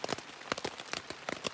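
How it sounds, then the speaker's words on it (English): Steady rain falls at a campsite on the Appalachian Trail, with irregular close taps and patters of drops striking a surface at a fairly quick, uneven rhythm. "it's just kind of a consistent rain."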